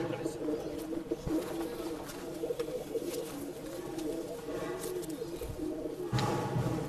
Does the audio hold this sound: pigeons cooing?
yes